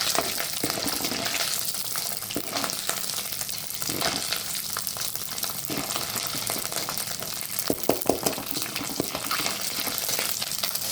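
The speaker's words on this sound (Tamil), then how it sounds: "இதெல்லாம் போட்டுட்டு கொஞ்சம் பொரிக்கிட்டோம்." Lentils and spices fry in oil in a pan, a steady dense sizzle throughout with scattered crackles and occasional stirring clatter close up.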